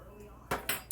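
A metal lid clanks onto a pot of boiling rice in a home kitchen, three quick bright clatters close by, following a soft background hum.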